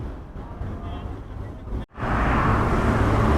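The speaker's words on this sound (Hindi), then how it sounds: "ये ट्रैफिक का शोर जो है वो सुनाई दे रहा होगा" Heavy traffic beside a busy road outdoors, a dense steady roar of passing vehicles with a brief dropout near the middle, then louder broadband rumble.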